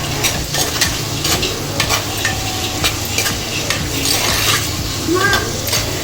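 Tomatoes being stirred into frying mutton gravy in a pan, with repeated scraping stirs and clinks of a spoon over a steady close sizzle, no voices.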